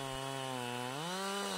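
An ECHO CS-7310SX gas chainsaw runs steadily at high revs, its engine pitch dipping slightly then settling, loud and close throughout with no one talking.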